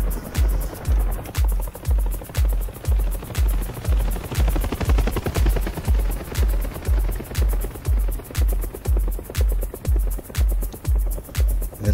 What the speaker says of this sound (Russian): Вертолет маленький, он двухлопастной